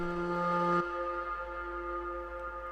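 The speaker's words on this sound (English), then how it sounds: "this has like a big reverb tail, like 21 seconds of reverb" A sustained synth bass tone, made in Serum, cuts off abruptly, leaving a long shimmering reverb tail of about 21 seconds that slowly fades across the rest of the clip.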